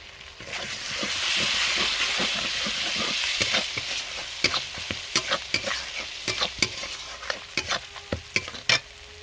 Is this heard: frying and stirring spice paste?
yes